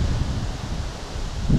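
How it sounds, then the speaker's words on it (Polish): Wind gusts through a forest while mushroom picking, a close, steady rustling whoosh of leaves and microphone buffeting with low rumbles, and no voices. "Przepraszam Was za wiatr."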